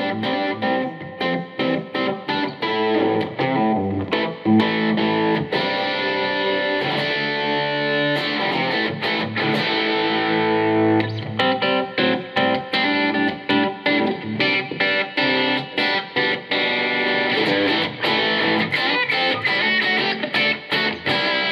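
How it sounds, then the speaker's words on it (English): Electric guitar played through a Marshall Code 50 amp on a Bluesbreaker 2x12 combo preset, a crunchy, lightly overdriven tone with strummed chords and riffs, loud and steady for over twenty seconds. "this next next preset is based on our very famous Marshall Bluesbreaker 2x12 combo"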